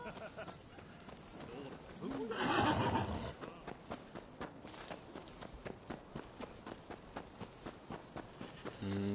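In the video game Rise of the Ronin, a horse lets out one loud whinny, followed by a steady, rhythmic run of hoofbeats, with talking heard alongside.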